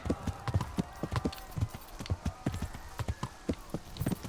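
Rhythmic clip-clop of horse hooves trotting steadily, fairly close, over a soft background hum, from the video game Kingdom Come: Deliverance.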